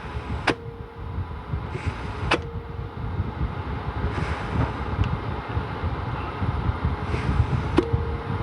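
Compressed air blown into a 4L60e transmission input housing to apply its clutch: a steady, loud hiss of air throughout, broken by a few sharp clicks and clunks as the clutch engages.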